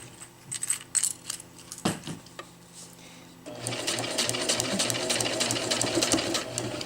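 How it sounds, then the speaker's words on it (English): A sewing machine stitches a zippered round bag along a half-inch seam, starting with a few short bursts and pauses, then settling into a steady, continuous run of close, moderately loud stitching. "we can just sew right over it and we know it's in the right place"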